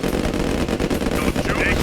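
Gunfire crackles in rapid bursts as a base comes under attack in C&C Red Alert Remastered, a dense close rattle of machine-gun fire under brief game voice lines.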